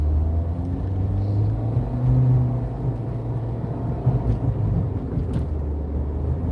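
Idling cars held at a crosswalk in Tempe while a rider on an electric scooter crosses, a steady low engine rumble close by with slight swells and no voices.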